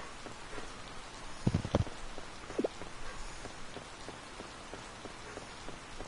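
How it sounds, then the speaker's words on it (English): Steady rain falls on a surface, a soft continuous patter at low level with a few louder close drops or knocks standing out briefly, and no voices. "Y'all getting a lot of rain up there?"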